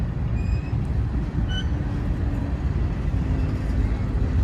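Freight train with graffiti-covered cars rolling past, a steady low rumble of wheels and wagons with a few brief high metallic squeaks near the start, continuous throughout.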